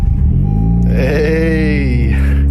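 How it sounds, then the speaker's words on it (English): A 10th-gen Honda Civic Si running E85 cold-starts in the snow, its engine catching loud and close with a rising, flaring whine before settling into a steady rumble. No one speaks. "Let's see if she'll start. E85 cold start."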